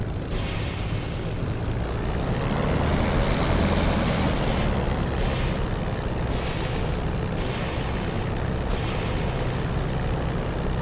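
Simulated aircraft taxiing in a flight simulator game, a steady loud propeller-engine drone with low rumble that holds constant throughout, with no talk over it.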